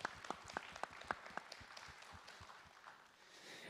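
Sparse, faint applause at a university innovation forum, a few distinct claps at first that blur into soft scattered clapping from a small audience, quiet and roomy.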